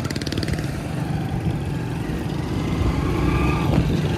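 A motorcycle being ridden toward a petrol pump: a close, steady engine drone with a rapid pulsing beat that carries throughout and swells slightly near the end.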